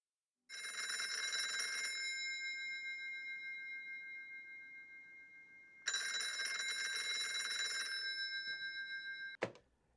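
An old-fashioned telephone bell rings loudly in two long bursts with a brief pause between, ending abruptly with a click as the receiver is lifted.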